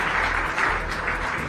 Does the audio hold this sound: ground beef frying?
no